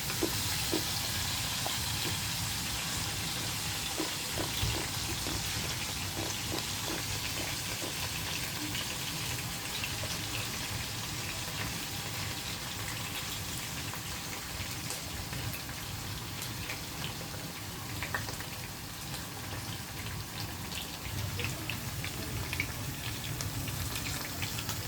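Onions frying with pork in a pan without added water, a steady close sizzle and crackle that holds evenly throughout with occasional faint clicks.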